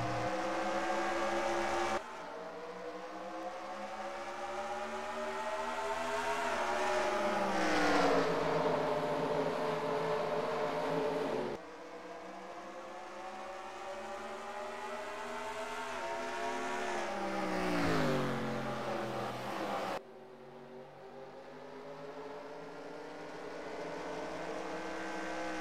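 Race cars circling Richmond in a racing video game, a dense multi-engine drone of high harmonic whine that swells and falls as the pack passes, with abrupt cuts between segments.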